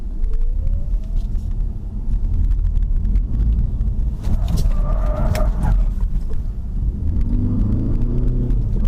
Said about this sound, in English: That's how you J-turn.